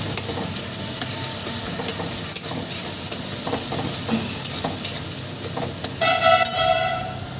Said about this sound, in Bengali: এবার মশলাটাকে আমি সুন্দর করে কষিয়ে নেব